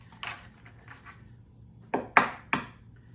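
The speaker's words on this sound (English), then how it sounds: "I'm going to crack 6 eggs." Eggs cracked one after another for a ham and Swiss croissant breakfast casserole: three sharp shell taps against a hard surface in quick succession, close and distinct, after quieter kitchen handling.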